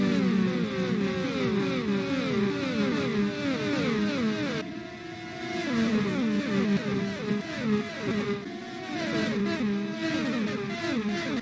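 Indy 500 race cars scream past on the green-flag restart, a rapid series of high-pitched engine passes with rising and falling whines, one after another, heard from trackside at moderate distance.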